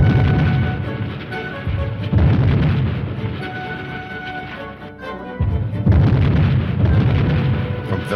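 Artillery fire pounds the German-held town of San Pietro in World War II, rendered as repeated heavy booms and rumbling blasts over a continuous roar, loud and close.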